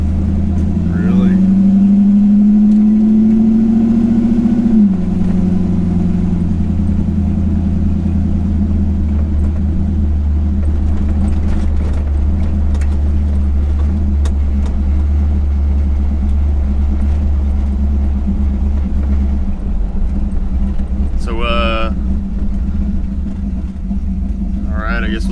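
A 1951 Chevy truck's engine runs on a test drive as a deep, steady rumble that rises in pitch as it accelerates, then settles into a loud, even drone, close up with voices talking at times.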